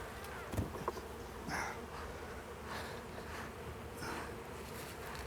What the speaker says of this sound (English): go ahead and brush the bees off